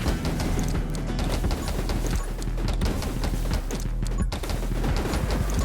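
Rapid, continuous gunfire in the survival shooter 10 Minutes Till Dawn, with shots packed into a steady, loud barrage of clattering impacts and no pause.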